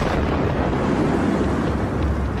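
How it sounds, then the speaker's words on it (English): A comet impact's air blast arrives as a sustained, loud broadband roar, a dense rumbling wall of sound that holds steady throughout with no voices. "In the midst of chaos and destruction, a moment of eerie silence precedes the sonic bang."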